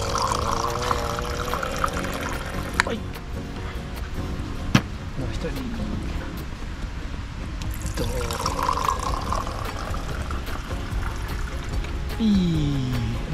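Wine pours outdoors from a container with a spout at the bottom in a steady trickling stream. People talk under it, and a few knocks and clinks are heard.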